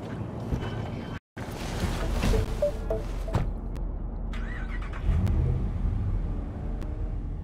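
A car in Cyberpunk 2077 starts up and drives off, its engine humming steadily close by, with a short cut to silence near the start and wind-like road noise throughout.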